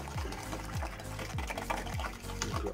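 A whisk or spoon stirs warm chocolate cake batter with eggs in a bowl, about five rhythmic, evenly spaced strokes that sound as wet swishes and scrapes, close up.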